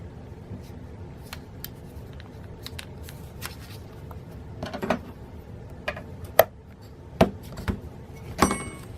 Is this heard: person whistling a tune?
no